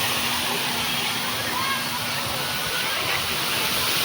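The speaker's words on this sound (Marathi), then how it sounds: "तर इथं आहे मस्त अशा कारंजा" Steady broadband splashing of a well-fed water fountain pouring continuously, with a faint constant hum underneath.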